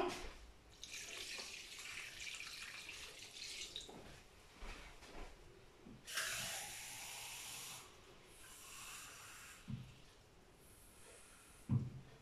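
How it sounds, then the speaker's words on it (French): Cold water runs steadily from a tap into a pot being filled for cooking pasta, a soft hissing splash that stops and restarts, with faint clinks and a louder knock near the end. "je vais rajouter du coup 600 ml d'eau. Alors, c'est de l'eau froide."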